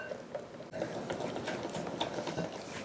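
Frothy eggs being beaten while chocolate ganache is mixed in for a low carb lava cake, a steady close whirring and sloshing that runs without a break, with a brief dip near the start.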